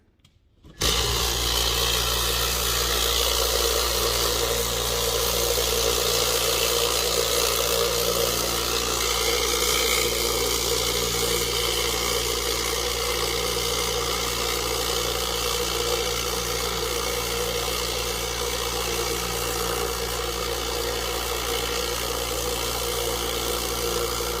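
A Lot-O vibratory rock tumbler runs through an amethyst medium-grit stage, giving a steady, loud, continuous motorized hum and rattling buzz that starts abruptly and holds unchanged throughout.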